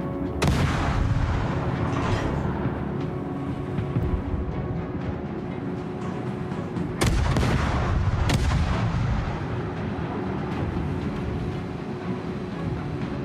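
Cruiser main guns fire in a World of Warships naval battle: heavy booming salvos with a low rumbling tail, the sharpest blasts near the start and about halfway through, with no voices.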